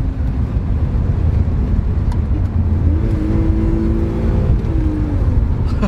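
A BMW 323ci running on ethanol revs up loudly and close, climbing in pitch midway, holding, then dropping back to a rough idle.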